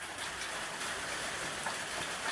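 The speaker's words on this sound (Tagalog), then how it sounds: "Kaya umuulan mga kaboy oh." Steady rain patters outdoors in bad weather at a pig-raising spot, a continuous even hiss of drops without pause and without any voices over it.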